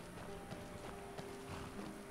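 Horse hooves clip-clop in the video game Skyrim, a quiet, steady run of hoofbeats under faint background music, with no talking.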